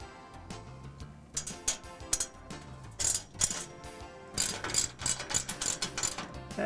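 A ratcheting tool tightens down a bracket on a Martin Fingershield gutter guard system, giving rapid bursts of close, crisp metallic clicks in uneven runs.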